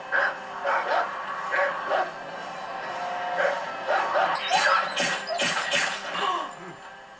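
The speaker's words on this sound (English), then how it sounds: "Yeah, they're wild dogs, yeah." Several sharp barks and yips from wild dogs in The Walking Dead season 5 episode 10, at close range, coming in bursts with short gaps, some overlapping, with a bit of whining between them.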